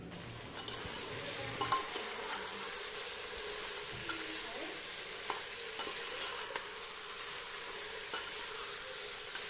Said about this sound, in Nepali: यसलाई मजाले 5-10 मिनटसम्म भुट्ने